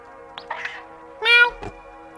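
Kiki the cat meows in the video game Gato Roboto: several short mews, then one louder, longer meow, all clear and close over a steady background tone.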